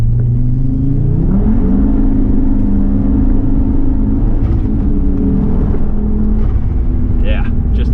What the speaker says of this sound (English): just unbelievable amounts of wheel spin.